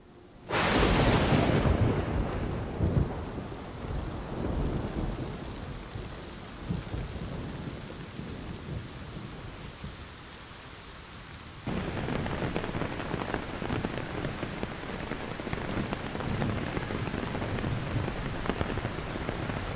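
A steady downpour of heavy rain with a loud, close thunderclap at the start, rolling rumble fading away, then the rain intensifying into a dense, constant hiss for the rest.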